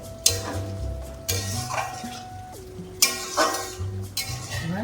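A thick, dense mixture being stirred in a cooking pot with a utensil, giving repeated scraping and clinking strokes against the metal, close and fairly loud with no talking.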